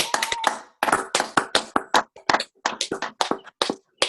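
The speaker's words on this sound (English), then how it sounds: "let's give Doug and the rest of us a big round of applause." Scattered individual claps from club members in an online meeting, sharp and close, arriving in uneven bursts with brief gaps as a few people clap over their microphones.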